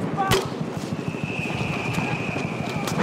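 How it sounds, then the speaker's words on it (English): Battlefield 1 battlefield din with machine gun fire: a sharp near shot, then a fast stream of rattling rounds at a middle distance, blended with other distant gunfire under voices. "Machine gun, look guys!"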